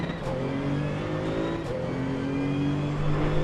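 Porsche 935 GT2 racing car engine in Assetto Corsa Competizione held near its rev limiter, a steady loud high-pitched drone with stacked harmonics and slight pitch wavering throughout.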